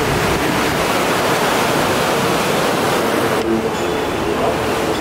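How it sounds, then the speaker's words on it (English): Rushing water of river rapids on a raft-style theme park ride at Animal Kingdom, a loud, dense, continuous roar that softens slightly near the end. "Now we're in the rapids."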